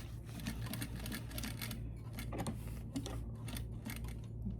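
Sewing machine stitching and backstitching a pillow seam with an invisible zipper and welt, a steady rapid mechanical whir with ticking needle strokes running throughout at close range.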